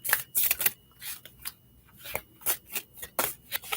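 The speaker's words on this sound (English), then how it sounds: "I'm going to start by shuffling the cards with my eyes closed." Tarot cards shuffled by hand in a quiet room, a run of crisp papery riffles and slaps in uneven bursts with brief pauses between them, close and fairly soft.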